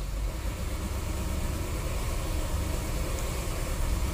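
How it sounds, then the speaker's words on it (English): Rough idle of a 1985 Cadillac DeVille's 4.9L engine suffering from no power and a restricted exhaust, a steady dense rumble with a hissy, noisy texture, close and continuous, with no talking. "You hear how it's sounding too?"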